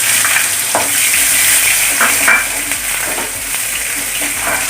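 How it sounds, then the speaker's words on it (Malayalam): Sliced shallots frying in hot oil right after mustard seeds pop, for a Kerala chicken curry with coconut milk: a loud, steady sizzle with occasional stirring, close up and with no talk. "കടുക് പൊട്ടി കഴിഞ്ഞ് നമ്മൾ ചെറിയ ഉള്ളി അരിഞ്ഞിട്ടിടാം"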